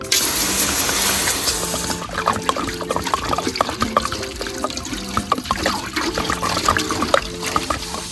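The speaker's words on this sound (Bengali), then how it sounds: "ভাত করে নেওয়ার জন্য ডেচকিতে আমি জলটা দিয়ে নিচ্ছি।" Water pours steadily into a cooking pot for rice, a continuous close trickle and splash with a brief louder gush at the start, no voices over it.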